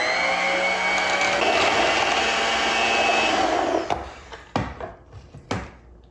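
Crepe batter with sugar and a pinch of salt being mixed steadily for about four seconds, a dense continuous whirring churn, followed by a few separate knocks and clatters as the mixing stops.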